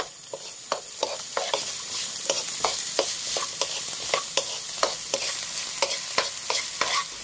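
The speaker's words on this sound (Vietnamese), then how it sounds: "cho hết lạp xưởng, xúc xích và cà rốt vào. Xào chín nha các bạn" Chinese sausage, hot dogs and carrot being stir-fried in a pan, with a steady sizzle broken by repeated sharp scrapes and clacks of a utensil stirring, fairly close and with no talk.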